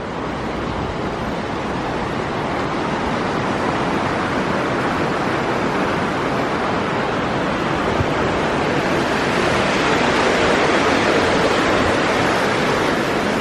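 Loud, steady rushing water roars without a break, a broad wash of surf-like noise with slight wind buffeting, sounding close and continuous.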